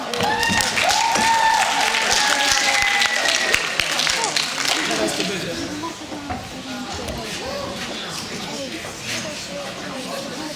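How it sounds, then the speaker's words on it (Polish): Audience applause at a school patron's day concert as a band comes on stage, loud crowd clapping and cheering that gradually thins out, with voices mixed in. "Wielkie brawa!"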